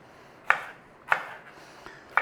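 A knife cubing peppers on a chopping board: four crisp, evenly spaced chops, close but fairly quiet, with near silence between strokes.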